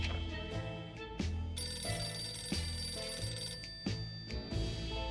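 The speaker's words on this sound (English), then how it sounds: "There's a phone call on the surface" A telephone rings in the video game 60 Seconds, a loud, repeated electronic ring in a regular pattern over several seconds with no talking.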